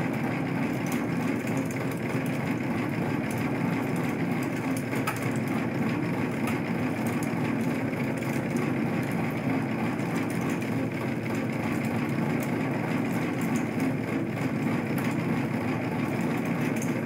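A motorised model of the Rings of Saturn fairground ride runs with a steady, continuous mechanical whirr and grinding hum, unbroken from start to finish at an even level with no voices.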